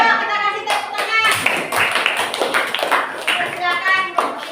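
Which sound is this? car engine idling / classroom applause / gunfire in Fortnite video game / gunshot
classroom applause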